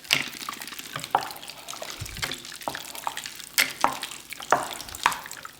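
Ice, four cups of it, is stirred into a pot of grilled chicken noodle soup, giving irregular clinks and knocks of cubes against the pot over a wet, sloshing background.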